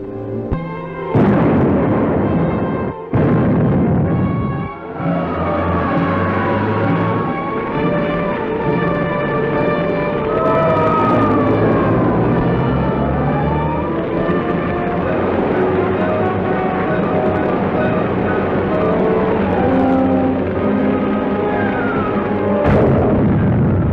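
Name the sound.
explosion of petroleum stores at supply depot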